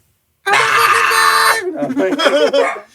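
A person vocally imitates a harsh, drawn-out scream from a song: a loud, raspy yell of about a second, then a warbling, groaning vocal tail that fades out.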